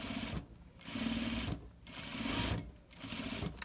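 Sewing machine edge stitching binding on a garment, three loud bursts of rapid mechanical whirring separated by short pauses.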